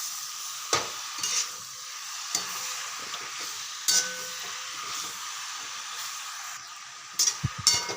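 Hadga flowers being stirred in oil in a pan, a soft steady sizzle with occasional scraping clinks of a spoon against the pan, close by and with no talking.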